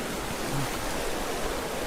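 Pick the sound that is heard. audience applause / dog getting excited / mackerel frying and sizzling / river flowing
river flowing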